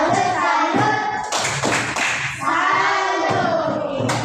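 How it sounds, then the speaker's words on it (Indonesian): A group of people clap their hands together in a classroom or training session, a dense continuous patter of many hands that stays loud throughout, with short pauses and surges in intensity. "Tepuk tangan dulu untuk Aurel, Dair, dan Dul."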